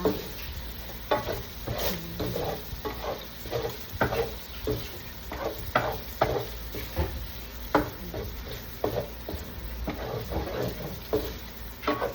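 Beef frying in a pan with only a little oil for Ilocano-Italian spaghetti sauce, sizzling steadily while a spoon stirs and scrapes in a repeated rhythm, close and fairly loud.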